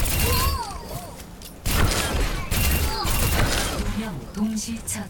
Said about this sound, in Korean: 그 폭탄 터지는 게 궁이야?